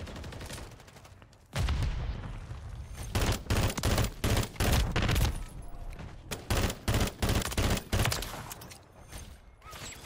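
Rapid bursts of gunfire from the Modern Warfare 3 video game, loud and dense, with repeated volleys of shots in quick succession and a few short pauses between bursts.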